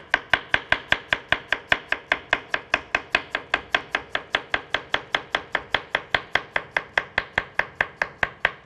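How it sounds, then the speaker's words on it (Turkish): A knife chops a potato into small pieces on a cutting board, a fast, even series of crisp, close knocks, around four to five per second, continuing steadily without talk. "ufak ufak şöyle bir doğruyoruz"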